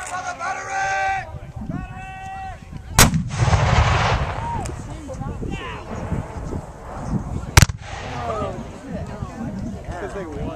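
Civil War re-enactment artillery battery at the Battle of Cloyd's Mountain in Dublin, Virginia, with two loud cannon blasts several seconds apart amid outdoor crowd noise and shouted voices.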